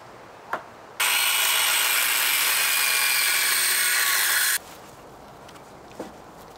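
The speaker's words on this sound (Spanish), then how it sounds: "Vamos a ir cortando las piezas y uniéndolas con tornillos." A power tool cuts moisture-resistant 2x4 lumber for a chicken coop base, giving one loud, steady three-and-a-half-second burst between quiet gaps with faint clicks.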